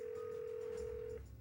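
A studio telephone rings on the line as a single steady electronic tone heard through the handset, faint and alone, cutting off near the end.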